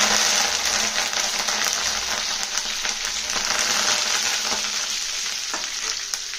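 Mustard seeds and cumin fry in hot oil in a pan, a steady, loud, dense sizzle with scattered crackles and pops throughout, and no voices.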